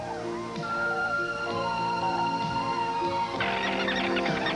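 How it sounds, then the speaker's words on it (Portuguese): Dense flocks of migratory waterbirds at Hula, geese and ducks among them, honk and call over one another in a constant, loud chorus with no gaps. "Pássaros de 3 continentes congregam-se no Hula"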